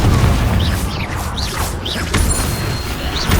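Booming blasts of the Confringo explosion spell in Hogwarts Legacy, several heavy hits in quick succession with crashing debris and whooshing effects, loud and close.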